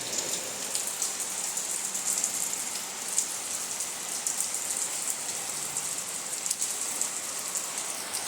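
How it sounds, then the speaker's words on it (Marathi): Light rain falls steadily on a Konkan home during Ganesh festival season, a soft even hiss of drops with occasional louder taps on nearby surfaces and no talking. "हळूहळू पाऊस पण पडतो आणि आता ऊन पाऊस म्हणजे चालू आहे"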